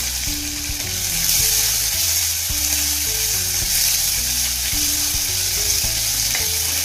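Chopped onion sautéing in a pan, a loud, continuous frying sizzle close up that runs steadily throughout, with no talking.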